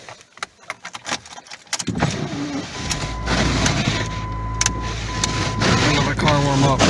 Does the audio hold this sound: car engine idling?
yes